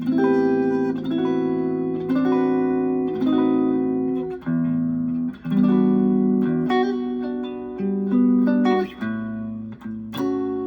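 A clean electric guitar plays a steady arpeggiated pattern, notes ringing into one another with quick slurred hammer-ons and pull-offs, close and continuous without talk.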